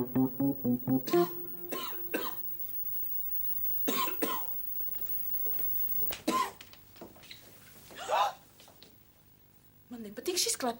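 A person coughs several times in short, harsh bursts, with throat clearing among them, amid quiet speech and room noise.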